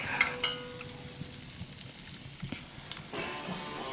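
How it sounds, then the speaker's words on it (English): Bacon sizzles and fries steadily on a fireplace barbecue grill built in Argentinian style, with faint scraping as it is mixed. The sizzle is close and continuous, with no voices. "I'm mixing up the bacon batch"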